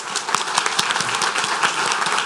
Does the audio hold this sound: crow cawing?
no